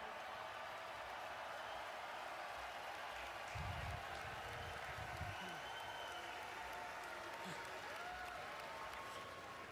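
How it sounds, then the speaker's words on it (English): A large crowd at an NFL Draft event cheers and applauds in a steady, dense roar of clapping that swells briefly in the middle. No single voice stands out above it. "I'd like to ask all of you to join me in cheering on Easton as he makes his wish come true."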